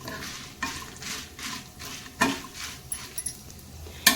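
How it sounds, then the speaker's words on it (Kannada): About eight or nine Byadgi red chillies roast dry in a pan over a low flame while being stirred, giving soft, rhythmic scraping strokes with a few light metallic clinks. "ಇದಕ್ಕೆ ನಾನು ಒಂದು 8ರಿಂದ 9 ಬ್ಯಾಡಗಿ ಮೆಣಸನ್ನು ಹಾಕಿದ್ದೇನೆ. ಇದನ್ನೀಗ ಸ್ಲೋ ಉರಿಯಲ್ಲಿ ನಾನು ಹುರ್ಕೋತೇನೆ ಚೆನ್ನಾಗಿ."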